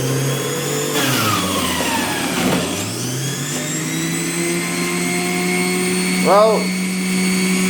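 A SILVERCREST SFE 450 C1 juicer whirring steadily as it processes bananas, its motor pitch dipping and recovering under load, with a brief spoken word near the start.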